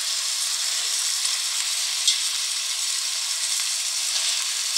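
White wine hissing in a hot pan of mustard-coated pork fillet and mushrooms, a bright continuous sizzle at close range with a small crackle midway, no voices.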